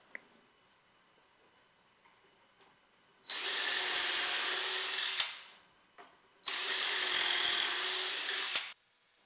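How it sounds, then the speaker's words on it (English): A power drill drives pocket screws into bookcase wood in two steady, loud whirring runs of about two seconds each, separated by a short pause with a faint click, in an otherwise quiet room. "The tops and bottoms will be attached with pocket screws."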